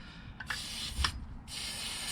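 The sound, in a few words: spraying lubricant on ball joint separator threads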